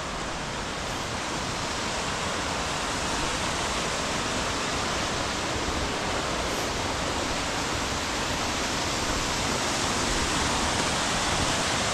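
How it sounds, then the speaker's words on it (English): Lower falls of a waterfall on Middle Prong Trail, running high after recent rain, roars as a steady, loud, dense rush of water that fills the whole clip without a break. "That's the lower falls. And it sounds like the water level may be up due to the recent rain"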